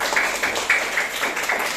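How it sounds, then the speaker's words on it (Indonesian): Classroom of students clapping for a classmate, a short run of rhythmic, fairly close hand claps at a steady beat. "Tepuk tangan dulu buat Indri."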